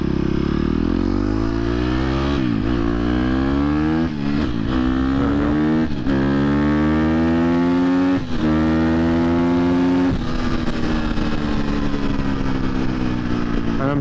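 A 2023 KTM 250 XC-F dirt bike ridden on a street, its engine loud and close, revving up and down through repeated rising and falling pitches as the rider shifts, with a brief lull near the middle.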